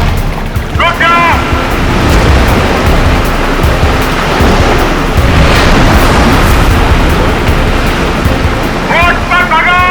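A boat moves across the sea with a loud, continuous roar of rushing water and wind, with brief high chirping bursts near the start and end.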